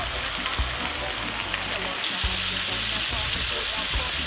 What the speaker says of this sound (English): it's been about 10 minutes now since the chicken is frying